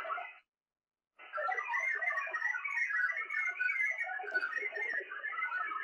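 VARA HF modem data tones sent over ham radio for Winlink email, a dense warbling burst of digital tones that starts, drops out briefly, then returns as a steady loud stream with no voices.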